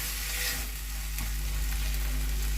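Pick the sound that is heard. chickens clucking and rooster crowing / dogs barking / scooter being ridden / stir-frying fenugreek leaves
stir-frying fenugreek leaves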